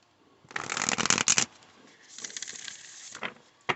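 Oracle cards are shuffled by hand, giving a dense papery riffle that swells, pauses briefly, then resumes in softer bursts, ending with a sharp tap; close and fairly quiet, with no voices.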